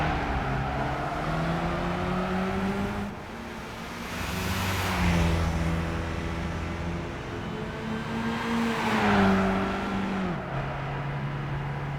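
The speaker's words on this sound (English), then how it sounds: "That hellish thunder" Race car engines from Gran Turismo 5, big V8s and V12s, roar steadily with rising and falling revs as gears shift, a continuous loud thunderous drone with no talk.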